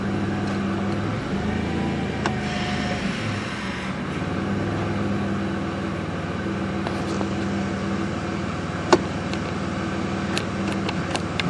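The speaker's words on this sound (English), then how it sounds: "go ahead and just run it through your gears really slow" A Dodge Caravan idles steadily while its transmission is run slowly through the gears, giving a low, even hum with faint clicks and a brief sharp tap near the end; no voices.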